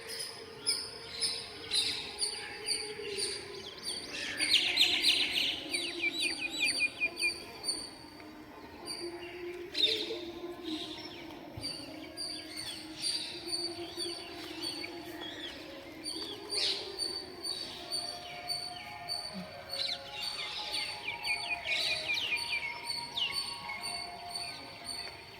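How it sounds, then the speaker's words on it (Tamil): Birds, including parrots, chirp in a tree at a Tamil Nadu temple: a steady chorus of high, scattered calls and twitters at moderate distance, with louder bursts now and then and no talk. "அந்த பேர்ட் சவுண்ட்ஸ் வந்து உங்களுக்கு கேட்கும் கண்டிப்பா."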